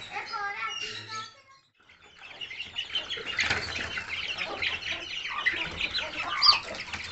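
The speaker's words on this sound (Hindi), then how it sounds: "मुझे बड़े शौक से खाते हैं चूज़े।" Aseel chicks pecking at homemade feed, with soft chirps, clucks and bursts of wing flapping spread through the clip. A person talks briefly near the start.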